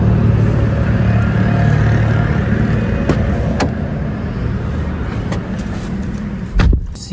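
A Tata Tiago EV electric car pulls away from a charging station, a quiet steady vehicle rumble with a few brief clicks and a soft thump near the end, no talk.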